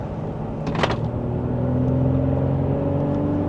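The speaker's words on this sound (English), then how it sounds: "And just a minor acceleration for this new vehicle." A 2026 Honda Pilot Trailsport with a naturally aspirated V6, in sport mode, gives a steady engine rumble and whir from inside the cabin that rises gently in pitch as it accelerates.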